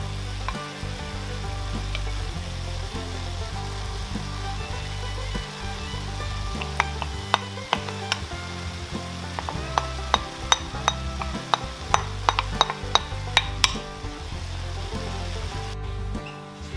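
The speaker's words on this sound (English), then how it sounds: "So we've drained our meat and we're ready to add our veggies." Drained ground beef with vegetables stirred in a pan for homemade spaghetti sauce, a steady close sizzle under scraping stir strokes and a run of sharp clicks near the end, with no talk.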